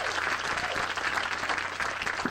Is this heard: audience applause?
yes